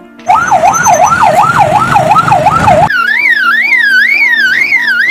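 A lyrebird mimics an ambulance siren: a loud, rapid wail rising and falling over and over, shifting to a slightly higher, slower wail midway.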